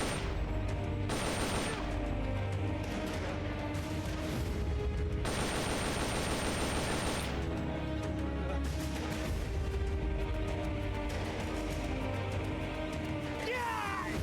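Bursts of automatic gunfire from the video game Metal Gear Solid: Peace Walker rattle in dense, repeated volleys, loud and close, with a few short pauses between strings of rapid shots.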